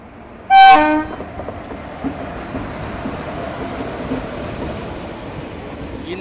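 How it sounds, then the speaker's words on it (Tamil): The Pollachi to Coimbatore passenger train arrives at Kinathukadavu station, giving one short, loud horn blast followed by a steady low rolling rumble. "Pollachi Coimbatore passenger arrival for Kinathukadavu ஸ்டேஷனுங்க."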